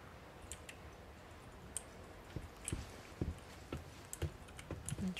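Scattered computer mouse and keyboard clicks from PC gaming land as sharp, irregular taps, faint and close, with some clustered near the end over a quiet background.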